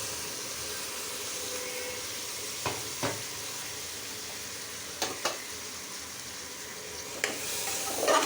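Spiced, marinated meat hits hot oil and sizzles with a steady, close frying hiss, broken by a few sharp spatter pops and a louder burst near the end; no voices.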